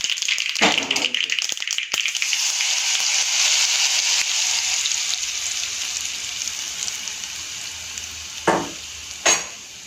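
Asafoetida and a spoonful of sesame seeds hit hot tempering oil for Gujarati sooji handvo, setting off a bright, crackling sizzle that slowly settles, with a few sharp taps near the end.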